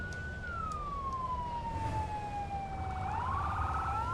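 A fire truck's siren in Firefighting Simulator sweeps in a long falling wail, then rises again into a quick warbling yelp, continuous over a low rumbling vehicle engine.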